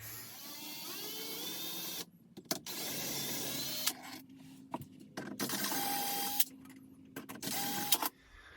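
A power tool whirs in bursts while four 5/16 bolts are backed out of an RV rooftop air conditioner, several runs of a few seconds each separated by brief pauses, close and loud with no talk.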